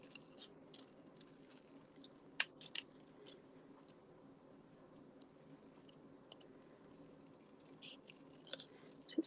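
Scissors fussy-cutting paper for a card, with quiet close snips and small crisp clicks coming in an irregular run, some sharper cuts standing out against a soft background.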